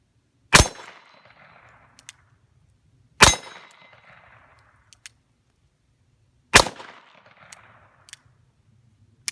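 A WW2-era pistol is fired single action: three loud, sharp shots spaced about three seconds apart, each with a brief decaying ring, plus faint metallic clicks between them.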